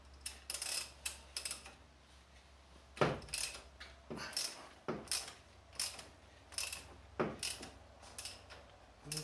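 A socket wrench loosening the oil filter housing on a Peugeot RCZ, a series of close, crisp ratcheting clicks and metallic knocks repeating in short bursts, with no talking.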